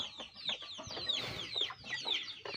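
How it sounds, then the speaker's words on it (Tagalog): Several chickens cluck and chirp close by in a steady, overlapping chatter, with no voices. "malalaki na po yung ating manok"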